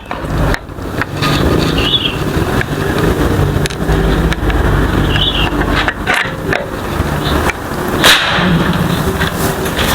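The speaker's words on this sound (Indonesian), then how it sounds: "di tarikan keempat, tembakan keempat" A Pasopati Big Game PCP air rifle fires, giving a few sharp, loud snaps that stand out above a constant rushing background noise.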